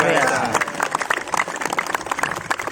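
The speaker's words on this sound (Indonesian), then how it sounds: "Tepuk tangan sekali lagi." An audience at an Indonesian religious talk and Q&A claps together in a steady, dense round of applause following a brief voice at the start.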